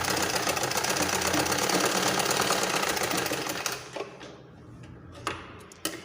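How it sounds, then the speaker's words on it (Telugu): Sewing machine stitching a second line along a blouse seam, running at a steady fast rattle for several seconds before stopping, leaving a few faint clicks and handling noises. "నేను సెకండ్ స్టిచ్చింగ్ కూడా వేస్తున్నాను మళ్ళీ స్టిప్గా ఉండటం కోసం"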